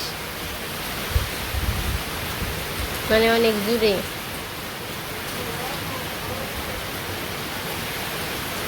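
Heavy rain and strong wind roar as a steady broadband wash throughout, with a brief voice speaking over it near the middle.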